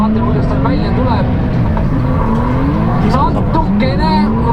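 A drift car tears around a track at a Mulgi Drift event, engine roaring loud and close with rising and falling rev sweeps and tire squeal, under constant commentary talk.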